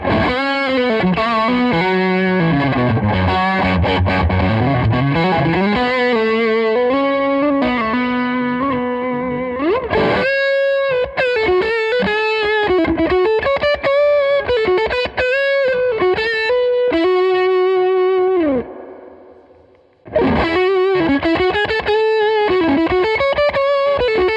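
Electric guitar on the neck pickup, played through a Victory V40 Deluxe amp with overdrive and spring reverb. Loud, driven lead phrases with bends and sustained notes play alone, pausing briefly near the end before resuming.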